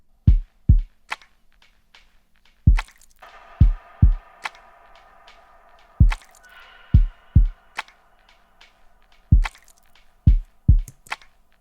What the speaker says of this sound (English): And the drums together will sound like this.